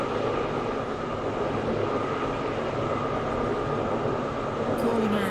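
Class 720 electric train running in the Roblox game SCR, a steady broadband rumble and rolling hum that holds constant and close throughout, with no pauses or talk.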